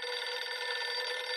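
A cartoon telephone rings with a continuous electronic bell tone, steady and fairly loud throughout with no other sounds.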